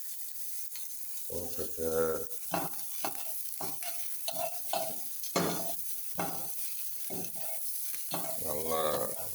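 Ginger garlic paste fries and is stirred in a pan while preparing mutton egg noodles, a close sizzle with scraping stirs, partly under a person speaking.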